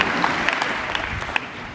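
A lively audience claps steadily in a dense, continuous round of applause at a motivational seminar. It sounds close and fills the room, with no voices over it.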